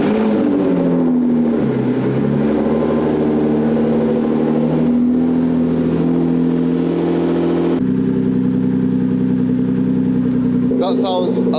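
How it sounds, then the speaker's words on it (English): A Nissan GTR with a stage 4.25 engine build runs at a steady loud idle during its first start and warm-up, with a deep continuous drone that shifts slightly partway through. "We're gonna give it the first start, let the car warm up a little bit."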